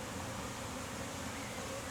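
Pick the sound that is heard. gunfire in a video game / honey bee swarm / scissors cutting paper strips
honey bee swarm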